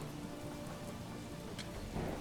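Steady rain falls in the Manor Lords medieval city-building game, a soft, even hiss that holds across the moment at low volume with no voices.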